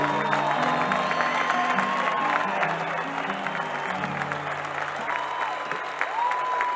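Audience applause and some cheering at an outdoor chamamé festival concert, steady dense clapping throughout with tonal music or feedback lines underneath and a brief lull near the middle.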